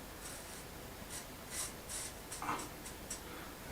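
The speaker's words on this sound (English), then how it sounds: "I'm going to put a cut line on it about there" A pen or marker scratches a cut line onto a chimney board during a chimney rebuild, a few short close strokes over a faint background hiss.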